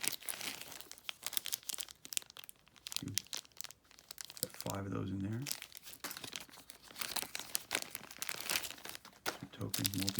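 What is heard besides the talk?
crinkling plastic bags of board game tokens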